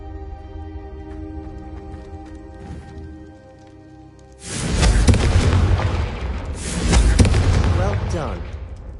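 Confringo fire spell in Hogwarts Legacy blasting candelabras: after quiet ambience, loud booming bursts erupt and crackle, swelling twice, with character dialogue nearby.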